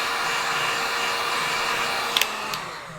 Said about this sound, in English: If you're using 2mm foam, you could definitely use a hairdryer.